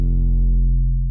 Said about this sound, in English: And this is how it sounds with the sidechain on.